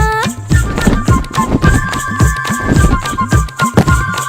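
Rhythmic clip-clop of a blue horse's hooves galloping along in a steady beat, set within a cheerful children's song with music playing throughout.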